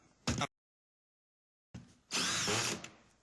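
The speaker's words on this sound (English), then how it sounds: "A professional drywall gun." Professional drywall screw gun whirring up briefly, then after a pause driving a screw with a louder, sustained high-pitched whine that tapers off, close and alone.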